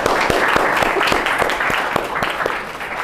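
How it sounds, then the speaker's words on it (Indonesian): Applause from a classroom of students, a dense patter of many hands clapping at once, with a few sharper claps standing out, steady and fairly close throughout. "Kita aplaus dulu."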